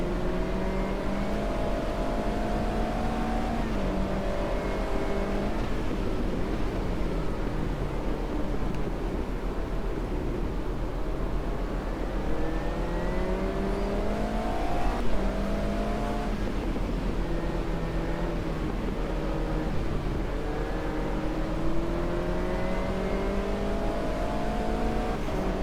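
Race car engine in the Automobilista 2 sim racing game, revving steadily with repeated rising and falling pitch sweeps as gears shift, loud and continuous with no talk.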